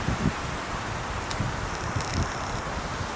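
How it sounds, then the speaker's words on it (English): Strong wind gusting through trees and rustling leaves near a blue heron nest in Bradenton, Florida, a steady windy hiss with brief louder gusts and no voices. "It's been extremely windy"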